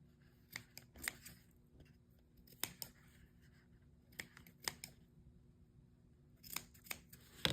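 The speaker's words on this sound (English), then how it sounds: "I'm going to cut the little" Scissors snip fringes into a candy bar wrapper, producing sharp, close, quiet clicks, some singly and some in quick pairs, spaced irregularly.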